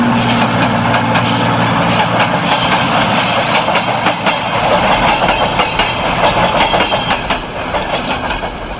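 A train passes along a railway close by, loud and continuous, with heavy rumbling, repeated clickety-clack of wheels over rail joints and squealing metal, fading slightly toward the end.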